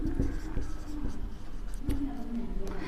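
Notes being written on a board during an electronics lecture, a run of short scratchy strokes under steady low room hum.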